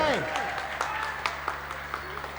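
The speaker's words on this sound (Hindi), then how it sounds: "एक बार इनके लिए जोरदार ताली हो जाए।" Scattered applause greets headmaster Mr Saurabh Kumar coming on stage at a school annual programme, sharp separate claps rising out of a room tone, with a voice heard briefly at the start.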